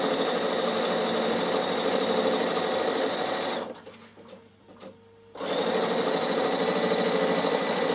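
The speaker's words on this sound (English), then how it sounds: "Not very good at sewing backwards, but I'm doing it." A Bernina sewing machine hums steadily as it stitches in reverse on an upcycling fabric project, a close, continuous whirring motor that cuts out briefly mid-way before resuming at the same pace.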